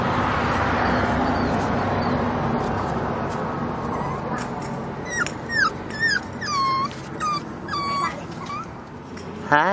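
An English bulldog puppy whimpers in a series of short, high, wavering whines, growing more frequent toward the end over a steady low background hum.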